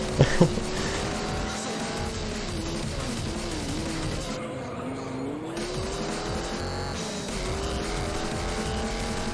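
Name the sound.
car engine without turbo in racing video game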